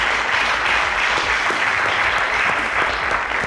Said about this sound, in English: A round of applause for Nigerian Tulip International College.